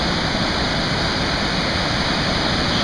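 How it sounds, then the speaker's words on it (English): Steady, full roar of Lower Swallow Falls in Maryland's Swallow Falls State Park, water crashing continuously and close by, an even wash of sound with no talking over it. "Such a beautiful waterfall."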